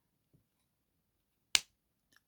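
A fidget toy snaps together once with a sharp, loud clap, then a faint small click follows, set against near silence.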